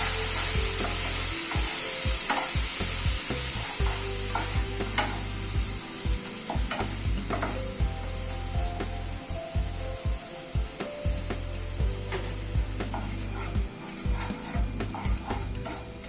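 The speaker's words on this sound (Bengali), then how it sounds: "সব গুঁড়ো মশলাগুলো দিয়ে আবার একটু মিনিট খানে একটু নাড়াচাড়া করে নিচ্ছি" Ground spices sizzle in a pan for a paneer curry while a spatula stirs them with repeated scraping and rubbing strokes over a constant close hiss.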